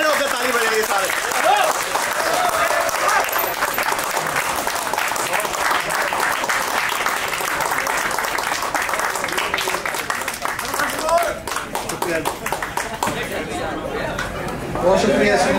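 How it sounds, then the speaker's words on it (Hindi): A standing audience claps at an event in an office, a broad sustained wash of applause mixed with crowd chatter and voices, continuing at an even level for many seconds before thinning slightly near the end. "खड़े होकर ताली बजाइए सारे।"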